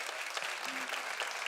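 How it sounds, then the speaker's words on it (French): Applause from a live television studio audience at a Creole music show, a dense, steady wash of clapping at moderate distance, fairly quiet and even throughout. "On les applaudit bien fort"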